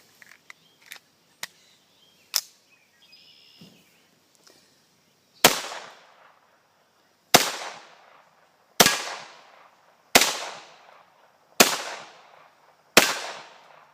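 A Ruger MKIII 22/45 pistol fires Remington hollow point .22 rounds outdoors, six sharp, close cracks spaced about one to two seconds apart, each with a brief decaying echo, after some light handling clicks and a faint beep.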